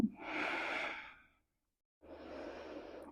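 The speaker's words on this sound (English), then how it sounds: "Take a few rounds of breath in your balasana." Slow yoga breathing in child's pose during a fluid vinyasa practice: a long, soft breath, then a pause of silence, then another steady breath, close and quiet with no talking.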